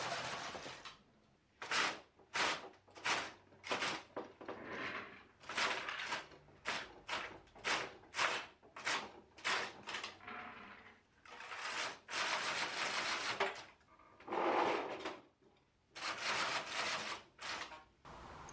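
Knitting machine carriage sweeping rows for a cabled hat, loud rhythmic whooshing passes repeating in bursts with short gaps, close and dominant.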